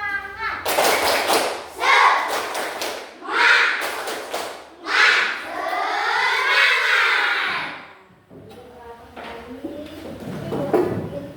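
Children in a classroom perform the tepuk semangat spirit clap, several bursts of rhythmic group clapping and chanting separated by short pauses, with a longer sustained chant in the middle and a teacher's voice near the end.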